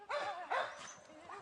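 Several dogs at a pit bull kennel in Finland bark and yip in quick bursts, moderately distant, with a short whimpering note mixed in.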